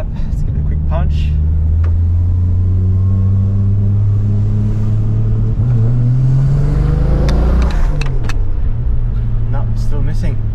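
Car engine with a misfire, first idling roughly, then given a quick punch of revs that rises and falls back, loud and close, the rumble uneven and stuttering throughout; a voice talks over it.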